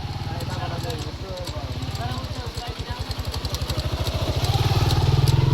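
A motorbike pushes across a flooded river crossing, its engine throbbing in a steady low pulse that swells louder toward the end as people talk nearby.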